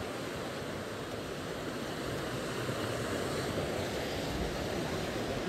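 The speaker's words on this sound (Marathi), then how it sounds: "ही बघा, ही मंदाकिनी नदी." The Mandakini river flows at Rudraprayag, near its confluence with the Alaknanda, as a steady, full roar of rushing water that holds even throughout with no voices over it.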